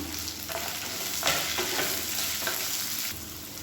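Onion and garlic sauté in a pan for a tomato chutney, giving a steady, fairly loud frying hiss with scraping stirs and clinks of a spatula against the pan throughout.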